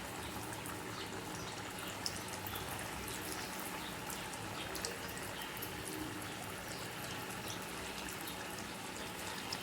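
Dal-rice gulab jamun dough balls sizzling in hot oil, a faint, steady crackle and bubbling hiss that continues evenly throughout without pause.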